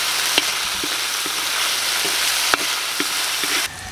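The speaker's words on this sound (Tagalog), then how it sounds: "Haluin na natin." Yellowfin tuna escabeche being stirred in a frying pan: a steady close sizzle with several sharp scrapes and clicks of the utensil against the pan, no voices.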